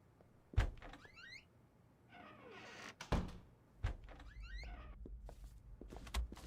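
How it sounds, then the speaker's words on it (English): A door pushed shut, with a few separate thuds and knocks against a quiet room background and faint rustling between them. "And close the door."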